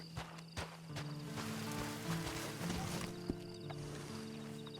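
In the video game Red Dead Online, a horse's hooves clip-clop at a moderate distance over a bed of ambient noise and sustained tonal game sounds.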